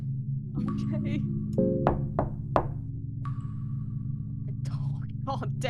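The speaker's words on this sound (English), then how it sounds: "Knock on the door." In the dark horror RPG Fear & Hunger, a character knocks on a door in a few hollow thuds. The knocks sit over a droning ambient hum and sharp game sound effects.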